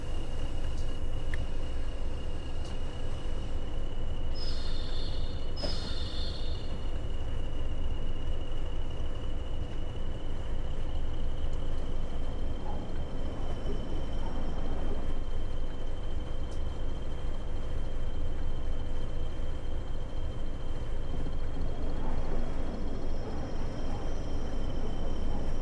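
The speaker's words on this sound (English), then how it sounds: "slowly drive the train through the unloader, emptying of coal." A train creeps slowly through a coal unloader in the video game Train Sim World 6 on the West Coast Main Line between Crewe and Preston, giving a steady low rumble and constant whine with a few faint metallic ticks.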